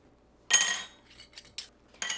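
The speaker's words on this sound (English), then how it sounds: "I'm going to take the rings off." Metal screw bands twisted and lifted off sealed glass jars of pressure-canned hamburger, giving a few close, bright metallic clinks and scrapes in short separate bursts.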